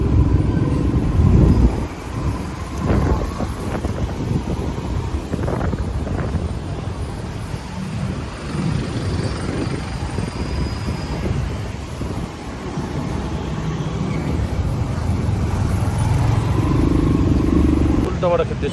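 A motorbike rides along a road around Boudha, giving a steady, unbroken rumble of engine and road noise mixed with heavy wind buffeting on the microphone for the whole stretch.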